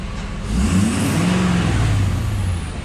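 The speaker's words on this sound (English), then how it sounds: "Oh yeah, you can hear the turbo good." A Ford F250 pickup engine revs up hard and holds a loud, rising roar with a whistling turbo whine, then eases back.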